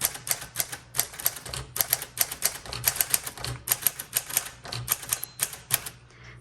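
Someone types on a 1946 Sterling Speedline manual typewriter, producing rapid, crisp mechanical key strikes in uneven bursts with brief pauses, close and clear with no talk.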